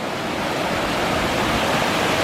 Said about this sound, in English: the lower end of the waterfall, is this collecting pool right here